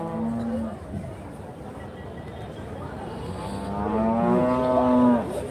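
Cattle at a busy cow market in Karimangalam, Dharmapuri district, give a short moo and then a longer, louder drawn-out moo, over a steady background of crowd noise and faint voices.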